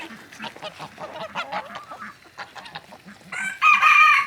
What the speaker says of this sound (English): Oh, rooster fight!